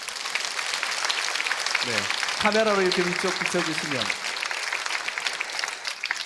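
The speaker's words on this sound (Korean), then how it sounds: "우리 박수 한번 합시다" A church congregation at a Sunday service applauds as children's and youth groups stand, steady broadband clapping filling the room from start to finish while someone speaks over it through the middle.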